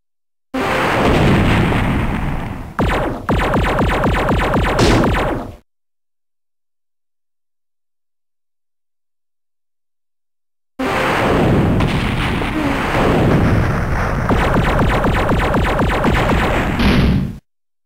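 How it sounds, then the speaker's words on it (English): Tanks fire on aliens in the video game Shockwave Assault: two loud, heavy bursts of booming cannon fire and explosions, each lasting several seconds, separated by a stretch of complete silence. "British tanks are engaging the aliens."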